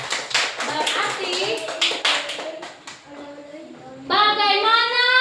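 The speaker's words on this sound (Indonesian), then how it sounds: "Tepuk tangan." Children in a classroom clap their hands in a fast, rhythmic pattern mixed with their voices, then break into a loud, sustained chant near the end.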